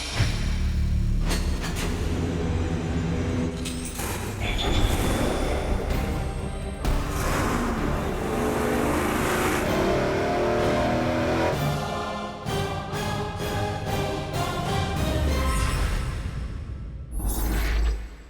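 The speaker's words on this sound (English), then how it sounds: "Another Excuse to Run My Big Block Chevy. I love this thing. It's 555 cubic inches." A supercharged 555 cubic inch big block Chevy V8 with a new muffler revs loudly and continuously, its roar swelling and falling through repeated throttle blips.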